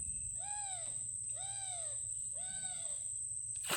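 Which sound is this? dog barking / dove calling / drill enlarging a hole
dove calling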